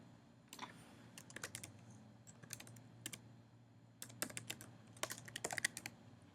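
Quiet, close typing on a computer keyboard comes in short irregular bursts of key clicks separated by pauses, with a faint steady hum underneath.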